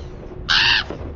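A crow-like caw, a single loud harsh call with strong bright harmonics, lasting about a third of a second, standing out over a low murmur of background noise.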